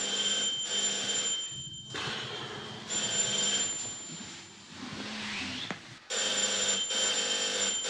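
A telephone rings in a film scene, bright repeated bell bursts with short gaps between them, loud and close, with a quieter muffled stretch in the middle.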